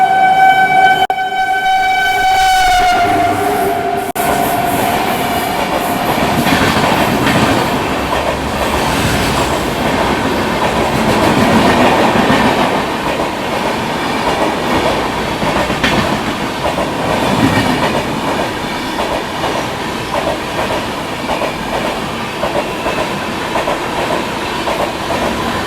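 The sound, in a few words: Dibrugarh Rajdhani Express train overtaking and passing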